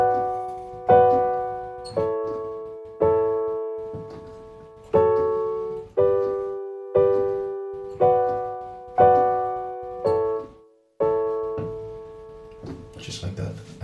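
Piano chords from a tutorial of a song are struck in a steady pattern, about one sustained chord every second, with the sequence played through twice. The notes ring clear and close, with no talking.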